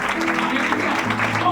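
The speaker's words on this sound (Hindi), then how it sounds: "जोरदार ताली बजा के प्रभु को" A congregation at a Christian church service claps for the Lord, a dense, continuous spread of applause filling the space, with a voice speaking over it.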